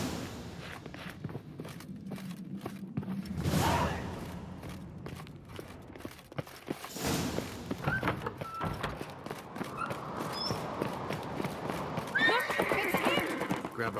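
In The Witcher 3, a horse whinnies loudly and hooves clip-clop along as riders set off in pursuit, with footsteps and voices talking over the scene.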